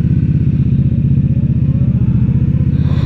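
A 2016 Indian Scout motorcycle engine idles with a steady, loud, rhythmic low throb close by while the rider works the clutch and tries to shift gears, the pulsing running unbroken and with no talk.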